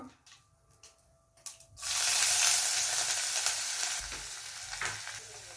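Chopped ginger hits hot coconut oil with popped mustard seeds for Kerala inji puli. After a few quiet seconds a loud, crackling sizzle bursts up and continues close, with faint stirring scrapes.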